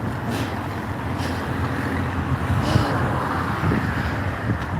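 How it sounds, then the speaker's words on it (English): Cars and trucks roll past on a road as steady traffic rumble, with wind buffeting the microphone throughout and a few louder swells as vehicles go by close. "Always have to concentrate when the cars come by."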